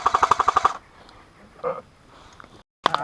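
Airsoft gunfire at a UK milsim game: a rapid burst of about eight sharp, close shots, then quieter rustling and a distant pop before another crack at the end.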